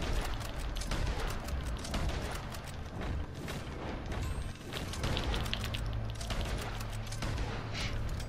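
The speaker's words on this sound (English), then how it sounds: "someone trying to shoot at me" Gunfire in the online western game Red Dead Online: dense, repeated shots and booming reports in rapid, irregular bursts, loud and continuous throughout with no voices.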